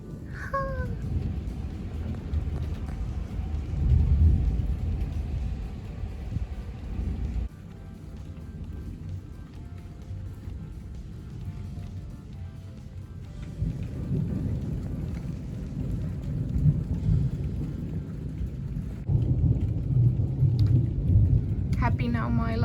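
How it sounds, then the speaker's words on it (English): A thunderstorm with heavy steady rain hissing and long low rumbles of thunder rolling through, heard from indoors and fairly loud throughout, with a few soft voices at times. "Never felt so happy with Thunderstorm."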